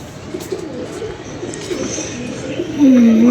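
Pigeons coo softly in a loft amid a steady ambient hiss, with one clearer, louder coo near the end.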